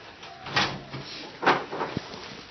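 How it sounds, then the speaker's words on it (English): A door being opened onto a heavy ice rain, with a couple of soft handling thumps and a sharp knock, then rustling close by. "Maybe open the door."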